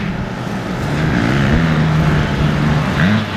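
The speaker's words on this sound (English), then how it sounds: "that noise in the background is motorcycles" Motocross motorcycles on a track at Morris Park, a steady engine drone in the background with rising and falling revs, fairly loud and continuous, with no talk over it.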